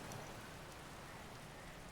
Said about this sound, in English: it sounds like the rain is letting up too